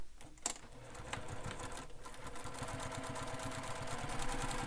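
Sewing machine basting vinyl bag pieces together, starting with a few clicks and handling noises, then settling into a fast, steady, close mechanical stitching rattle that runs continuously to the end.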